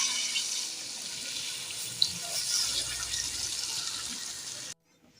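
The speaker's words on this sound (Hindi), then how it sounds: "इसमें हमने पानी ऐड कर दिया," Water runs steadily into a cooking pot of chicken korma as it is prepared. A continuous close splashing rush lasts several seconds with a small clink partway through, then stops abruptly into near silence.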